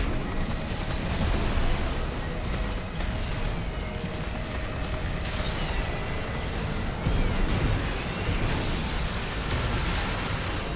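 A missile salvo in the video game Armored Core 6, with a rapid barrage of launches and overlapping explosions rumbling loudly and continuously, bursts layered on top of each other with no talking.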